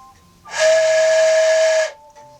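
A homemade wooden ocarina gives one breathy, airy tone held steadily for more than a second, loud and close, with a noisy hiss around the pitch and quiet background before and after.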